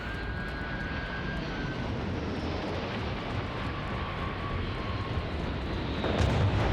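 A spaceship flies through space in the video game Starfield, its engine giving a steady, full roaring drone with a deep rumble underneath. The roar swells slightly near the end, and no one talks over it.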